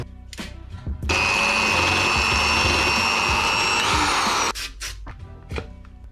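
A power drill bores a new bolt hole through a motorcycle crash bar clamp, one loud sustained whining run of about three and a half seconds, close up, with workshop clatter before and after and no speech.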